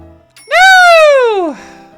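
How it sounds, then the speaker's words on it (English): An alarm tone sounds in the Cooking Mama video game, a single bright, sustained electronic note lasting about a second that slides downward at the end, loud and alone. "Okay, I hear the alarm going off."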